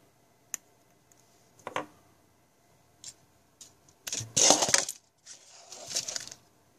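Wire cutters snip the loose end of a freshly wrapped ribbon nano vape coil meant for a Trident RDA clone, giving a few small sharp clicks and snaps followed by short louder clattering bursts, close and quiet.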